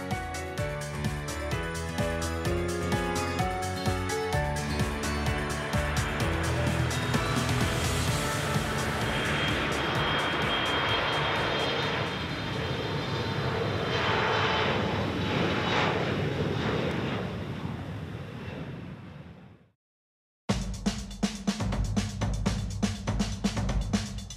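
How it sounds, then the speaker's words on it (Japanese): A loud, continuous jet engine roar from a departing airliner bound for Kagoshima builds and sustains for a long stretch, then cuts off abruptly before a different rhythmic sound resumes. "オレンジ色の飛行機でキャンプ地鹿児島へと旅立ちました"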